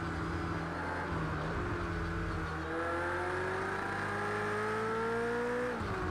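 A BMW race car engine in the racing game Project Cars 2 revs and climbs through the gears, its pitch rising in repeated sweeps before dropping sharply near the end, loud and continuous with no talking.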